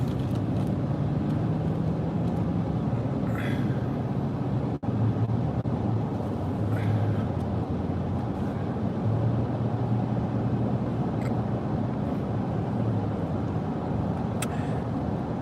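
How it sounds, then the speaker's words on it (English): A car driving back into a residential compound in Saudi Arabia: a steady, continuous engine and road rumble heard from inside the vehicle, with faint wind noise and no talking. "Now we drive back into the house"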